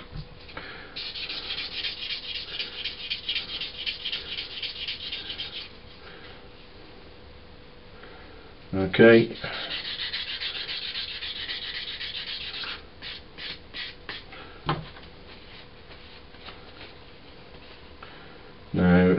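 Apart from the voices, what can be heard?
wet sanding a model with a rough sanding stick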